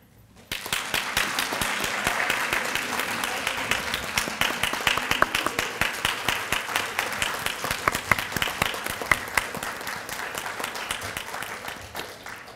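Audience applause at an honor society induction ceremony, many people clapping steadily for new members, the individual claps growing sparser and more distinct toward the end.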